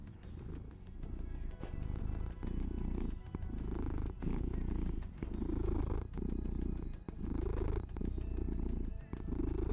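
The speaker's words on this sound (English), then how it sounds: "we getting purred on" A cat named Beans purrs up close, a steady low rumble that swells and dips in a regular rhythm of breaths, with no one talking.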